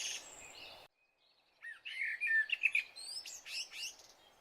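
Small birds chirp and tweet in the morning: a short call, a brief silence, then a busy run of quick, bright chirps nearby, with no voices.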